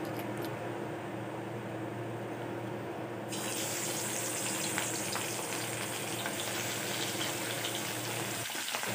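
Steady hiss of food frying in hot oil in a home kitchen, a loud continuous sizzle running the whole time with no talk over it.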